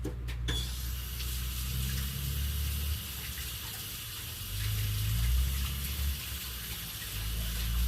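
Running water rinses aircraft remover off the plastic of a boat motor, a steady low gushing splash that swells and eases a few times with no talking.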